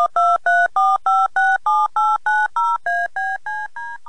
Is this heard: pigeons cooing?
no